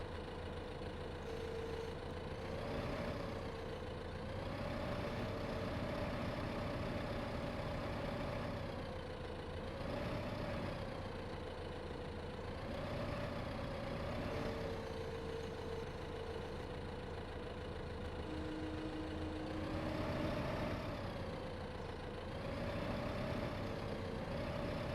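A tractor engine runs steadily in the Farming Simulator video game, a continuous low rumbling drone with a slowly wavering pitch that swells and eases every few seconds, loud and unbroken throughout.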